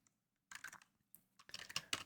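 Code is typed on a computer keyboard in bursts of quick key clicks, separated by brief pauses, close and fairly quiet with no talking.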